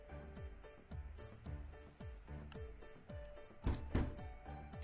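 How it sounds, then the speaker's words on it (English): Someone banging on a door, a rapid series of dull repeated thumps in a steady rhythm, moderately loud, with a couple of heavier knocks near the end. "Who's banging on my door?"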